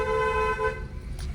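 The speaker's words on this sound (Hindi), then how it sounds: "लॉन्ग हॉर्न प्रेस करिए" A car horn on a beginner's driving lesson along a narrow, rough single-lane road, held in one long steady honk for about a second before cutting off, loud and close with road rumble underneath.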